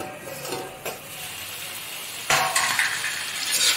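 Mixed vegetables fry together in a pan with a steady close sizzle, broken by a few utensil clinks and a louder burst of crackling partway through.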